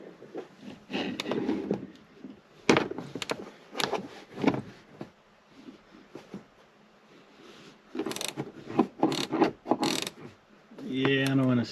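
A ratchet turning in a tight space while speakers are installed in a 2021 Toyota Tacoma, close bursts of sharp clicking in short runs, separated by pauses, with someone talking briefly.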